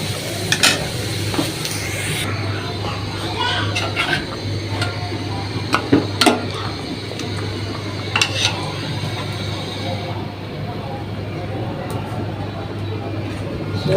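Lentils poured into hot oil tempered with fried cumin in a home kitchen, a continuous sizzle with sharp clinks and stirring scrapes of a utensil against the pan, a low steady hum underneath.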